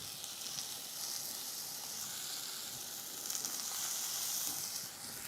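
Scallops (coquilles Saint-Jacques) sear in a hot pan, giving a soft, steady crackling sizzle with faint pops, heard close and alone without talk.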